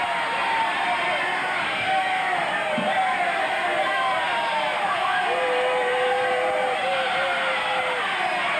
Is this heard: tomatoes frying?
no